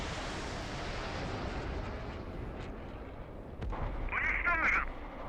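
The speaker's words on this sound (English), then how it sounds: "We're ready to go and shoot." Main battle tank gun firing in DCS World Combined Arms: one muffled boom partway through rises over a quiet, steady engine hiss, followed by a brief whining tone.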